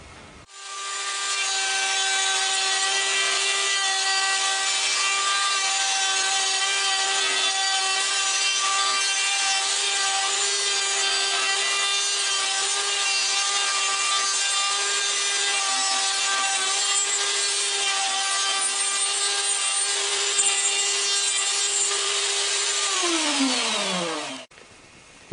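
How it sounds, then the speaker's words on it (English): A woodworking machine cuts integral dowels into the end of a piece of wood stock, giving a steady, close, high-pitched whine that holds level for over twenty seconds, then drops sharply in pitch as it winds down. "I can cut integral dowels into the end of a piece of stock."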